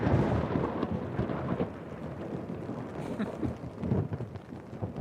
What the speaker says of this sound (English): I could hear rain coming down outside.